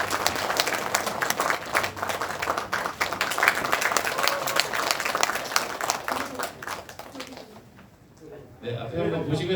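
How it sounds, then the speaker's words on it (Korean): Big applause from the audience at a university entrance ceremony, dense clapping that fills the hall for most of the stretch, dips briefly near the end, then rises again. "큰 박수 부탁드릴게요."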